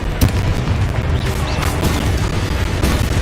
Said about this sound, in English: Levioso! Confringo! Deposo!